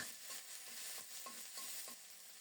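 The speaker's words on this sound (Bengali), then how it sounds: "অল্প তাপে মশলাটাকে খুব সুন্দর মতো কষিয়ে নেব" Ground ginger, cumin, garlic, pepper, cinnamon and cardamom paste frying slowly over low heat in a pan, with a faint steady sizzle and soft rhythmic stirring scrapes throughout.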